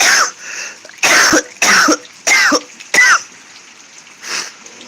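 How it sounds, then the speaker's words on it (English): A man with allergies coughs outdoors, five loud, close, harsh coughs in quick succession followed by a fainter sixth after a short pause. "No, the cough is allergies,"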